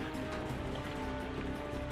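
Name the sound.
heavy rain in Uttarkashi, Uttarakhand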